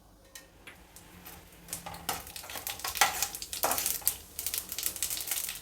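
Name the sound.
mustard seeds, urad dal and chana dal sizzling in hot oil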